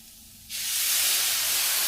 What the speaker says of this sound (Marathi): त्याच्यामध्ये दूध टाकून घेते,